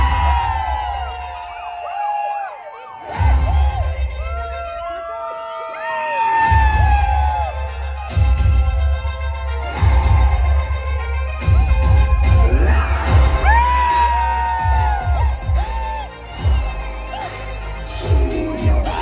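A packed cinema hall crowd at a Sooryavanshi screening erupts in loud cheering, whoops, whistles and shrill screams, with repeated waves of yelling over a deep rumbling soundtrack.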